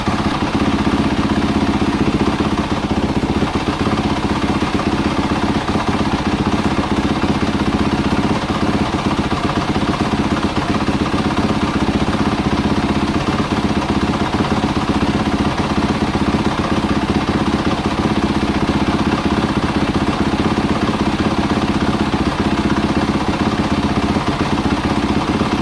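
A Yamaha YZ250F dirt bike engine idling while it warms up, a steady, loud, even running drone with a fine mechanical clatter that continues unchanged throughout, with no voices.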